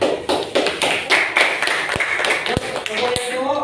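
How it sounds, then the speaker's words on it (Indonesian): Classroom applause for a classmate, a patter of hand claps from a group of students mixed with taps and thuds, while voices chatter over it. "aplaus untuk temannya"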